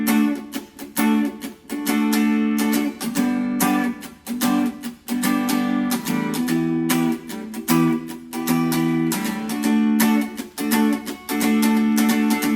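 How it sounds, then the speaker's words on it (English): Strummed guitar chords in a steady, syncopated pattern, with muted percussive ghost strums between the full chords, played close and clear with no voices. "The ghost strums add a little bit more character and depth to it"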